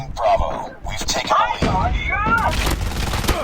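Rapid gunfire from Call of Duty Mobile, dense bursts of shots and impacts mixed with game effects, playing continuously under lively talk.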